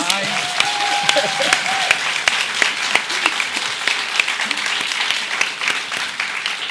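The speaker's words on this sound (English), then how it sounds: "I first would like to have everyone applaud Belva" Audience at a book festival talk breaks into steady, sustained applause, a dense wash of many hands clapping throughout, fairly loud and close, with no words spoken over it.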